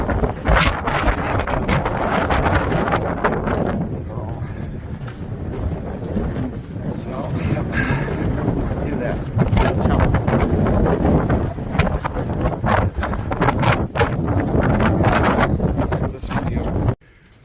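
Strong, steady wind roars and buffets around a metal building, with heavy gusting rumble at close range throughout and a voice speaking over it.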